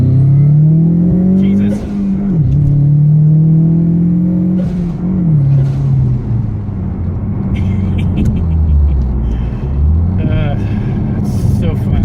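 A 2016 Ford Mustang EcoBoost with a big turbo and stock exhaust pulls hard, its loud, close engine note climbing through gears with rev drops between shifts, while a man exclaims over it.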